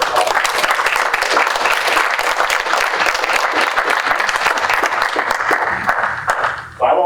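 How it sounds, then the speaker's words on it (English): A large audience claps in a long, dense, steady round at a sports commission MVP awards celebration, continuous until a brief dip near the end. "I want to give you all a round of applause"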